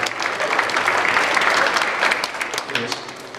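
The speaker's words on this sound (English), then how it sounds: "let's give a hand clap for Jesus real quick." An audience claps together in a chapel service, a full, continuous round of applause sustained for a few seconds at close range.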